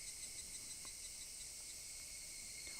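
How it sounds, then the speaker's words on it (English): Steady, high-pitched cicada chirring fills the air without a break, loud and continuous, with no voices, in the video game Higurashi no Naku Koro ni. "Only the cry of the cicadas remained annoyingly loud"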